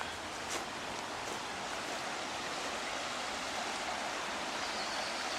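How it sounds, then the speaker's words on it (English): Steady broadband rush of flowing water fills the whole clip, a constant even wash with no voices, like a river running nearby at low level, in Bishop Auckland. "You can hear the river"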